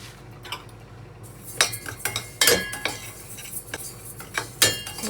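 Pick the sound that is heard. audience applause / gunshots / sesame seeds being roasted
sesame seeds being roasted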